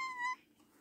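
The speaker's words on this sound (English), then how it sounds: "That's my cat." A pet cat gives a single short, clear meow up close, followed by quiet room tone.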